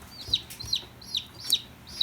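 A baby chick cries under a brooder plate, wanting a mother hen: high, sharp peeping calls repeat about every half second, clear and close, with faint background hum.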